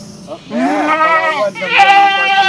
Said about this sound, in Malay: Oh, ini menyipak kambing.